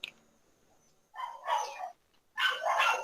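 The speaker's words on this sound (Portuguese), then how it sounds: "vamos orar para ver se esses cachorros param de latir aqui" Dogs bark in two loud, rough bursts of several quick barks each, separated by a short quiet gap, with a faint yip at the very start.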